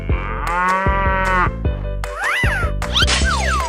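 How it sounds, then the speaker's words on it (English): Cartoonish cow moos in a 3D animal sliding game, several loud drawn-out calls mixed with game sound effects, bright whooping tones and short knocks, no talking. "Cow."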